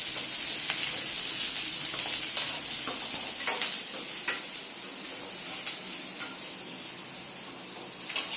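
Beans poriyal sautéing in a pan with garlic and tomato, a steady loud sizzle with scraping stir strokes throughout, fading slightly toward the end.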